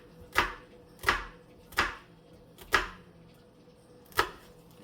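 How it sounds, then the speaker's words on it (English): A kitchen knife cuts slits into an onion in five crisp, evenly spaced strokes, each a sharp close slice on a cutting board with brief quiet gaps between them and no voices. "Cut slits into your onion."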